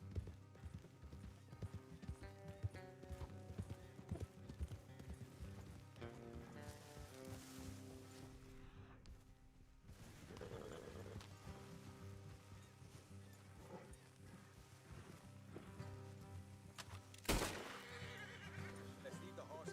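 Horses in the video game Red Dead Redemption 2, hooves clip-clopping at a gallop with an occasional neigh, faint and low in level, mixed with background game sound.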